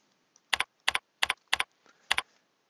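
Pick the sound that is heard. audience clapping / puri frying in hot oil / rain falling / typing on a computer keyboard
typing on a computer keyboard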